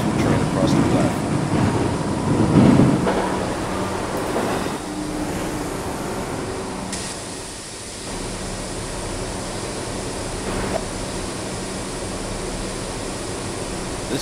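An R62A subway train on the 3 line running toward Rector Street in Trainz, a steady broadband rumble and rail roar throughout, louder at first and then settling into a constant hum.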